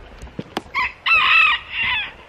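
Chickens cluck in short bursts close by, then a rooster lets out a loud, drawn-out crow in two strong phrases, with nobody talking.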